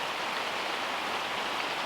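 Steady rain falls outdoors on a morning beside a new automatic chicken coop, a dense, even hiss of drops with no breaks or voices across the whole stretch.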